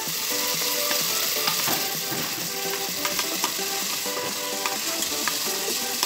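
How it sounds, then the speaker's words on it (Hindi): Chickpeas with chillies being stirred in a frying pan for ghughni, a loud steady sizzle and frying hiss with repeated scraping and clacking of a spoon against the pan, no voices. "अब इसको अच्छे से हम चलाएंगे इसमें डालकर।"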